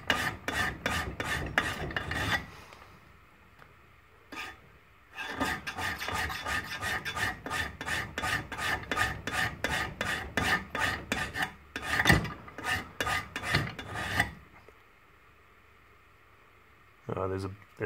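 A file rasps in rapid back-and-forth strokes across a steel broadhead blade being converted from double to single bevel, with two long steady runs of strokes separated by pauses, close and clear.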